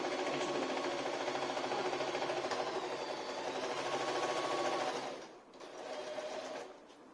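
Singer 8280 sewing machine stitching a curve, a close rapid mechanical whirr running steadily for about five seconds, briefly pausing, then resuming more softly.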